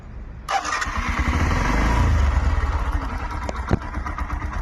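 A Bajaj Platina 100 motorcycle engine cranks and catches, then settles into a close, loud, steady idle with a sharp clack near the end.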